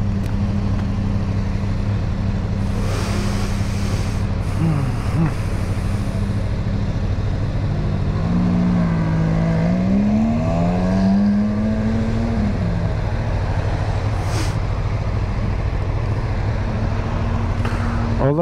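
A Ferrari F430 engine runs loud and close with a constant deep drone, rising and falling through a couple of rev sweeps midway before settling back to a steady idle roar.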